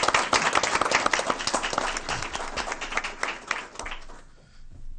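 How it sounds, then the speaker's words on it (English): A school board meeting audience claps for an honoree, brisk applause that stays strong for about four seconds, then thins out and fades near the end. "let's give Dr. Jones a round of applause"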